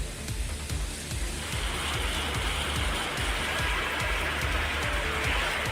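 Heavy monsoon-style rain pours down steadily, a dense, continuous hiss of drops drumming on surfaces during an hour-long downpour that flooded low-lying streets, with no voices over it.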